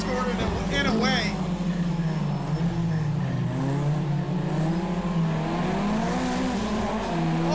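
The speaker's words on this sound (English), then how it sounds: "Car sounds awesome though. Kind of sounds like the Ford Escort in a way." A race car engine in the video game Project Cars drones steadily at high revs, its pitch rising and falling slightly, loud and continuous throughout.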